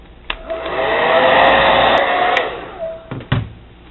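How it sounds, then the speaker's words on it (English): A hair dryer blows with a steady whooshing roar for a few seconds, heating a seam of faux granite contact paper on a countertop, rising and easing as it's moved, with clicks as it switches on and off. "Use the hair dryer to get a nice tight seam on the top"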